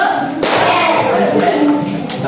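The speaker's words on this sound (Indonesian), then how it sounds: "Kita tepuk semangat. Ya. Tepuk 1." A classroom of students claps out a rhythmic group pattern in unison, with loud, sharp bursts landing at uneven intervals over a noisy room.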